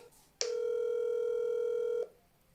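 A single steady telephone tone on a call placed back to a listener, sounding clearly for about a second and a half before cutting off, with no talk.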